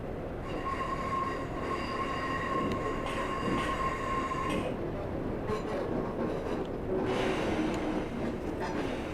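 Class 142 train in Train Simulator 2018 coasting at low speed on the Leeds to York via Harrogate route toward a platform, steady rolling rumble with a sustained wheel squeal, moderately loud and continuous.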